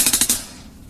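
Five quick hi-hat strokes in a rapid roll, crisp and close, followed by a short decaying wash of cymbal sizzle.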